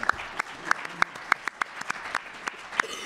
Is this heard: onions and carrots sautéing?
no